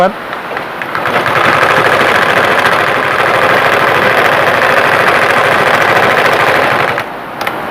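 A domestic sewing machine runs steadily, stitching cloth while its upper-thread stitch fault is fixed, a loud close continuous mechanical whirr that starts after a second and stops near the end.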